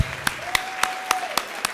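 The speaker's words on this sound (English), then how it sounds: "Come on, Sam, give these folks a round of applause." Clapping from an audience at a 2014 scholarly lecture event, heard as a crisp, evenly spaced run of about six sharp claps over a faint steady tone, with no talking.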